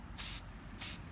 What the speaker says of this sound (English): I'm going to spray the thread kind of out.